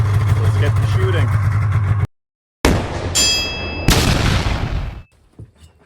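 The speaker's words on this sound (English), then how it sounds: "get ready to shoot SK long range match out of my Savage MKII BTV" A Savage MKII BTV rifle fires SK Long Range Match ammunition at a 200-yard outdoor range, with two sharp, loud reports a little over a second apart following a stretch of steady low hum and a brief silence.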